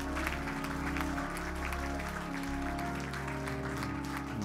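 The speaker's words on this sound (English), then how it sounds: "even now we bless you by the clapping of our hands" A church congregation claps hands together during a prayer, a dense steady wash of applause under sustained music or tones, with no voices standing out.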